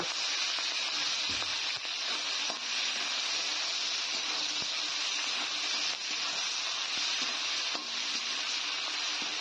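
Onion and green chillies fry in oil in a pan for a potato, pointed gourd and fish curry, a steady faint sizzle and hiss with occasional soft stirring taps and no talk.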